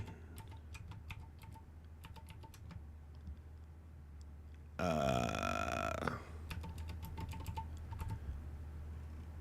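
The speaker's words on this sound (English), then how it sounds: "The clicks on my keyboard coming through the MV6" Bursts of sharp computer keyboard clicks picked up through a Shure MV6 microphone, tapping in quick clusters, briefly interrupted by a loud, buzzing, tonal noise before the typing resumes.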